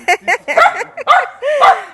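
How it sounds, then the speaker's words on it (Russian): A puppy gives a string of short, yappy barks and yips up close, ending in a higher whining bark, with a person's voice mixed in. "На Сашу гавкает."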